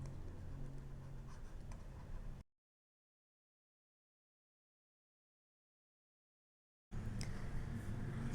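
A marker or chalk writing on a board during a lesson, quiet scratchy strokes, cut off by a long stretch of dead silence before the scratching picks up again.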